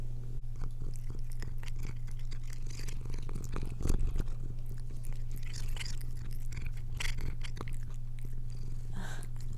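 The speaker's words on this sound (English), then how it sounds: "Do you guys want some ASMR cat munching noises?" Close, wet crunching and chewing as a cat eats, steady rapid bites over a low constant hum, with a louder crunch near the middle.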